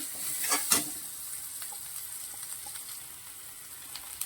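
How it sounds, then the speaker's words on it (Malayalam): Grated coconut with a little chilli powder roasts in a pan for koottukari, giving a faint, steady crackling sizzle with a couple of brief stirring scrapes near the start, quiet and without talking. "കൂട്ടുകറിക്ക് വേണ്ടിയിട്ട് നമ്മൾ തേങ്ങ ഒന്ന് വറുത്ത് മാറ്റുവാണ്."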